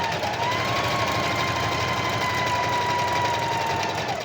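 A sewing machine stitching steadily close by, with a continuous even mechanical whir and hum that runs unbroken throughout, with no talking.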